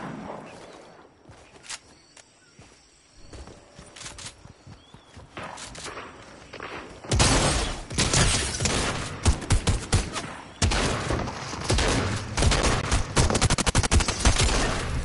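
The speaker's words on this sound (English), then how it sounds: "Oh, we're getting shot at." Gunfire in the video game Fortnite, starting with sparse distant shots and then breaking into loud, rapid volleys of close bursts that continue to the end, with footsteps mixed in.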